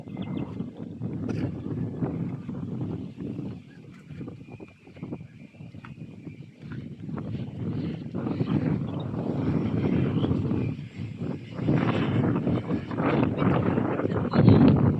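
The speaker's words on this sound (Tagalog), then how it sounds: "Lakas ng hangin." Steady, heavy wind roars across the microphone on a rice farm throughout, with a low rumbling power-saw engine drone and occasional voices mixed in.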